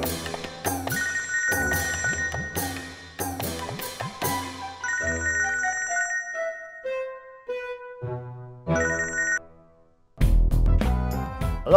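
A phone ringtone plays a loud, clear melodic tune of repeated bright chimes and descending notes, stopping briefly before noisy sound resumes at the end.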